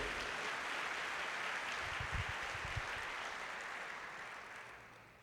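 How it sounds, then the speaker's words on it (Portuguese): Congregation applauding during a church worship service, a dense steady clapping that fills the room for the whole span and slowly tapers off toward the end. "Dá um aplauso a Ele."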